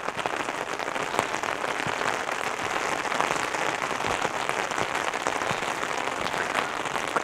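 Heavy rain pours down at a site of 108 stupas in Arunachal Pradesh, a loud continuous patter with dense close drops throughout.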